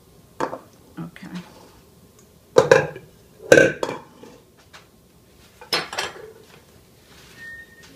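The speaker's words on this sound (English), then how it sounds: "I'm putting the bowl back on" A mixing bowl being handled and set back down in a home kitchen while baking Italian cookies, giving a few sharp clinks and knocks spread across the moment, with a voice murmuring briefly between them.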